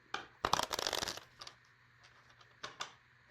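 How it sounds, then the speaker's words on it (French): Playing cards are drawn and handled during a love-themed card reading, with a brisk flurry of crisp riffling snaps followed by a few softer, scattered slides and taps, close and alone. "Je prends 2 cartes"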